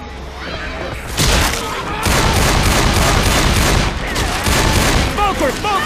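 Rapid gunfire bursts from Left 4 Dead 2's The Passing campaign, loud and sustained with dense overlapping shots and heavy thumps, continuing almost unbroken with brief gaps.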